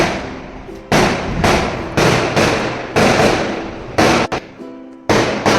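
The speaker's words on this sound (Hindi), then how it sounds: "बाहर में कितना बम फूट रही है" Firecrackers burst outdoors during Diwali celebrations, a series of about seven sharp, loud bangs spaced roughly every half second to a second, each with a short decaying tail, plus a fainter crack in between.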